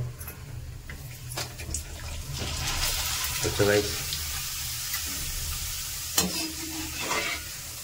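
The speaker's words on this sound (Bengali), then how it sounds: "আর আমার ভাই পাঁপড় ভাজছে।" Papad frying in hot oil gives a steady crackling sizzle with the clink and scrape of a utensil now and then, close by, while light rain falls outside.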